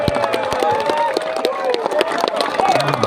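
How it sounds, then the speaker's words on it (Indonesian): Students clap together at a school gathering addressed by a local police chief, quick sharp claps mixed with a noisy crowd of young voices shouting and chattering throughout. "Tepuk tangan dulu adik-adik."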